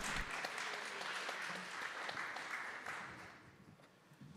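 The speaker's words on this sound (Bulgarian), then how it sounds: "Аплодисменти, заповядайте." Audience applause at a panel event on digital Europe, a steady wash of clapping from a crowd, moderately quiet and slowly fading toward the end.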